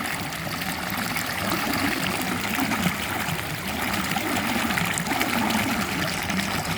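Water pours steadily over Bok Luek waterfall in Ubon Ratchathani, Thailand, a loud, continuous rushing and splashing close at hand with slight surges, and no speech.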